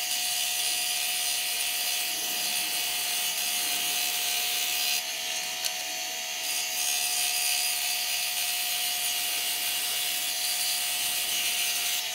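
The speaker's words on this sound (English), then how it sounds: "with my benchtop bandsaw set up, we'll cut the arc on our little corbel blocks" A benchtop bandsaw drones at a steady, loud pitch as its blade hisses through wood without a break, close by, cutting an arc in small corbel blocks.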